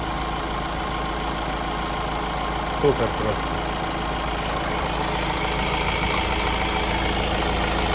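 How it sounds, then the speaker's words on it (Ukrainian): A 2014 Honda CR-V engine hums steadily at idle, close by, with an even drone throughout and a brief spoken remark partway through. "двигун рівненько працює"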